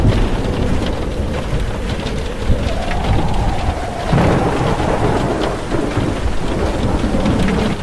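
A sudden downpour with thunder: rain hisses loudly and steadily while deep rumbles roll underneath, one swelling louder midway, all close and continuous without any voices.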